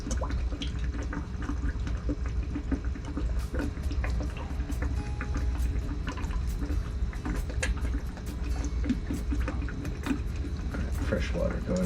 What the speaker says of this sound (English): Fresh water going in over top to kind of give it a little force down